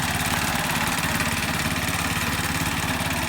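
A mini tractor plowing furrows for cassava, its small engine running in a steady, loud, close drone with a fast even chug and no pauses or voices.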